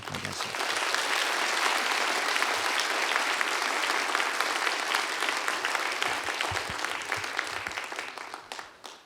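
A church congregation applauds at an evening revival service, welcoming the pastor to the pulpit with sustained, dense clapping that holds steady for several seconds before tapering off near the end.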